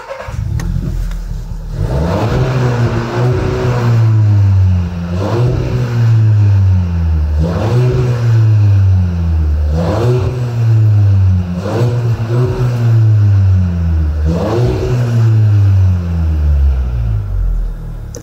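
A Volkswagen Golf 7.5 engine revs repeatedly, climbing and dropping in pitch in a loud, rhythmic cycle of throttle blips over a deep, continuous rumble.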